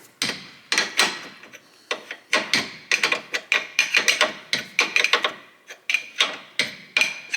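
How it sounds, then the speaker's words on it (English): Ratchet tightening a nut on a Volvo S40/V50/C30/C70 control arm ball joint, rapid bursts of sharp metallic clicking in repeated strokes with brief pauses, close and crisp. "And we're gonna tighten the nut"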